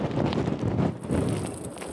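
Storm wind buffets the microphone on the English Channel coast, a rough, low rumbling gust that swells, dips briefly near the middle, then surges again, loud and close, with no voices.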